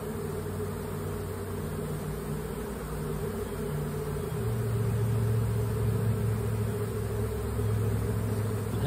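A honeybee swarm being moved from a tree limb into a permanent hive fills the air with a steady, dense buzzing hum that swells slightly louder partway through, with no voices.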